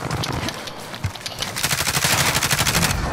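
Rapid automatic gunfire in Call of Duty Warzone, a close, loud burst of evenly spaced shots that speeds into a steady rattling stream in the second half.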